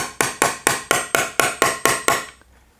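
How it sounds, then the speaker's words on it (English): A hammer taps a ferrule flush into an oak electric guitar body with nine sharp, evenly spaced strikes, close and fairly loud, then stops; nobody speaks. "And then I will tap it with a hammer"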